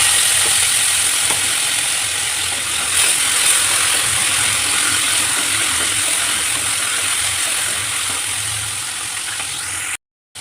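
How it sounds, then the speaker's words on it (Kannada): Green chillies fry in hot oil in a heated pan, giving a loud, continuous close-up sizzle and crackle for about ten seconds before cutting off abruptly near the end. "ಎಣ್ಣೆ ಬಿಸಿ ಆದ ತಕ್ಷಣ ಮೆಣಸಿನ್ಕಾಯಿ ಆ್ಯಡ್ ಮಾಡ್ಕೊಳ್ಳಿ."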